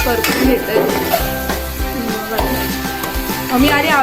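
Onion, garlic, curry leaves and masala frying in hot oil in a pan for a Sunday fish curry give a loud, crackling sizzle, broken by clanks and scrapes of stirring utensils and a voice now and then.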